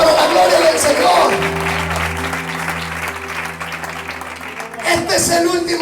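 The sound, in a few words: church congregation applauding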